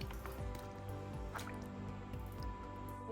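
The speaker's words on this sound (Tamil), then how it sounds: "கறி மூங்குற அளவுக்கு தண்ணி சேர்த்துக்கலாம்." Water is added to mutton cooking with spinach, tomato and onion in a pot, heard as faint close drips, splashes and wet squishing bursts without talk.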